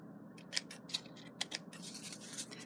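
Scissors snip tiny paper bits from a handmade card kit in a series of crisp, close cuts, with short rubbing pauses between the snips.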